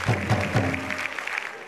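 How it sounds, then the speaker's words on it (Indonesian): Studio audience applause at a televised stand-up comedy special, a short burst of clapping with a few louder claps near the start, then thinning out over under two seconds. "Beri tepuk tangan untuk Kampung Kocak."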